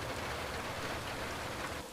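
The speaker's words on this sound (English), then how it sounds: "Rain." Steady rain pours down in a dense, even hiss of many drops hitting a surface, continuous and close with no voices over it.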